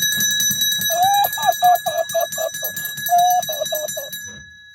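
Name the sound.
hand bell ringing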